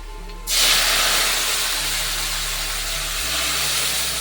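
Boiled lentils are poured into a hot tempering of fried onion and garlic, and a sudden loud hiss bursts up, then holds as a steady, dense sizzle up close.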